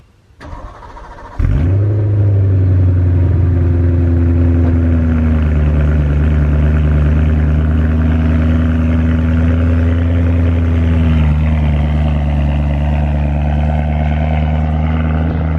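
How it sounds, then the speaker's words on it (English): A BMW E92 M3 on its stock exhaust fires up with a sharp starter burst, then settles into a loud, steady, deep idle that drones on close by with a slight dip partway through, and no talking. "Not bad for a stock exhaust, right?"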